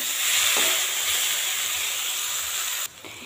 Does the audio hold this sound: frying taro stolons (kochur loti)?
yes